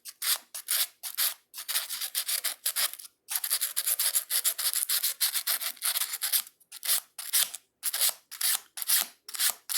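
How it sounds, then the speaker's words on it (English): Sandpaper rubs an e-bike brake pad in quick, close, raspy back-and-forth strokes, a steady rhythm of short scratchy bursts with brief pauses, and no voices. "just use a little bit of sandpaper on it, just like this"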